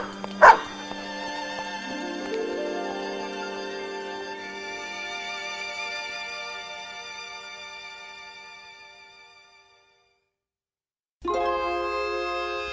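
A family dog named Rip barks in a radio drama, one sharp loud yelp at the start, then fading under a long swelling music bed that drops to silence before the music returns.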